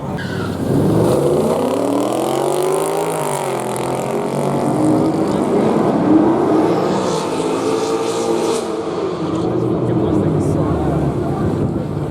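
Cars run quarter-mile passes down the straight and pit road at Atlanta Motor Speedway during the Hot Rod Power Tour, a loud, continuous engine roar rising and falling as vehicles accelerate past nearby.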